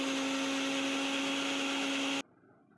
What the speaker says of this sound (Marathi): थोडेसे आईस क्यूब टाकून त्याला पण आपण ग्राइंड करून घेऊ